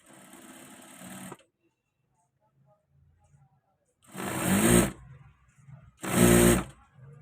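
An electric sewing machine stitches a trouser seam in three short bursts separated by quiet pauses. The whirring is loud and close, and the last two runs are the strongest.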